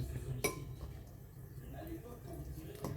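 A spoon stirring a chocolate drink with milk in a glass, quiet clinks and scrapes against the glass at a few points, with a voice talking softly underneath.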